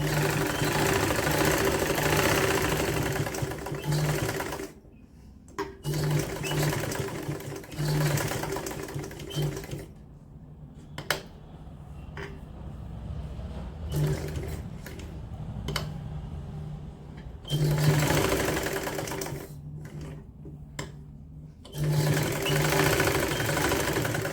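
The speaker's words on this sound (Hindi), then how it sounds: "अब यहाँ से हमने सिलाई को स्टार्ट करना है, और जैसे जैसे हमने निशान लगाए हैं वैसे वैसे हमने सिलाई करनी है।" A domestic sewing machine stitches woolen sock fabric, a steady close mechanical whirring run that stops several times for short pauses around 5, 10 and 17–22 seconds before starting up again, with no talking.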